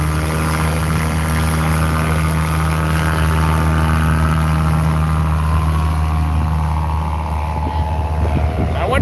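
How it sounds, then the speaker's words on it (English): Propeller engine of a Highlander Super STOL aircraft with long-suspension landing gear drones steadily and loudly at an air show demonstration, a sustained harmonic hum that shifts slightly in pitch toward the end. "up next is the Highlander Super STOL with the super long suspension landing gear"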